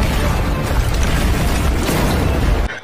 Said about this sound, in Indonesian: kuali api suci tersebut meledak dengan hebatnya